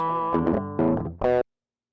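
An electric guitar through a Tube Screamer overdrive plays a few short, gritty chords with a brief pause between them, then cuts off into silence.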